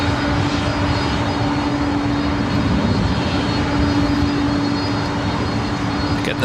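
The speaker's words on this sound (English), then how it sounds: "Morgan, this is Delta Airlines Flight 562 heading to JFK. 33-year-old 767-300ER" A Delta Air Lines Boeing 767-300ER jet airliner at Los Angeles International Airport gives off a continuous, loud, even engine roar with a faint steady whine running through it, and no voices are heard.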